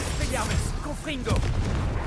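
Confringo blasting spells explode in bursts during arena combat in the video game Hogwarts Legacy, with booming hits layered over game effects while a voice talks throughout.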